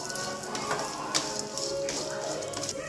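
Light dry roasting in a pan for coconut chutney, roasted chana in the pan: a soft, steady sizzle with faint scraping and stirring, close and continuous.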